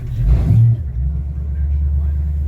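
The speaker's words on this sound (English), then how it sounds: "Fires right up. Like I say, motor's been really good. Put it in gear." A direct-drive marine engine on a 27 ft fisherman boat fires up and settles into a steady low idling rumble after a brief louder burst at start, then is put in gear, running continuously and close.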